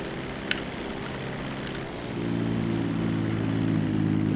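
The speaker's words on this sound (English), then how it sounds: "Not that there's really much you can do with a Dodo seaplane to make it go any faster." A Dodo seaplane's propeller engine in GTA Online drones steadily and close, a low, buzzing tone that swells louder about halfway through and keeps going without any voices.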